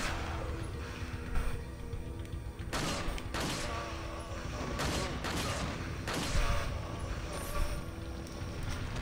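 Gunfire in the Resident Evil 4 video game: several sharp bursts and volleys of shots over a constant background rumble, fairly close and loud, with a voice talking intermittently.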